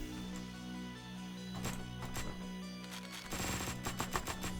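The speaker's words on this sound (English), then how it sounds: "Mark just makes quick work of enemies with his dual SMGs" Dual SMGs firing in the top-down game Hotline Miami 2: Wrong Number, loud rapid bursts of automatic gunfire in clusters over a steady game music bed, heaviest in the second half.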